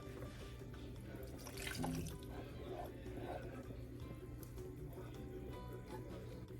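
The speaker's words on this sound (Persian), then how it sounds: "آب اضافه میکنیم، میذاریم مرغمون بپزه" Water poured from a tap into a pot of chicken cooking with spices, a steady running splash over a constant low kitchen hum, with a brief louder gush near the two-second mark.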